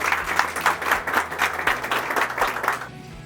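An audience applauds as the mayor of Dörtyol is invited to the microphone, with rhythmic, fairly loud clapping pulsing steadily for about three seconds before it stops abruptly and the room falls quiet.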